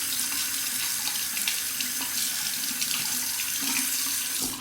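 Water from a tap runs steadily and close by as a Muhle R89 safety razor is rinsed under it, a continuous broadband splash with no speech.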